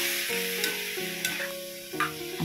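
Chicken wings are stirred through an adobo marinade of vinegar and red chili in a pan, with spoon scrapes recurring about every second over a steady low sizzle and no voices.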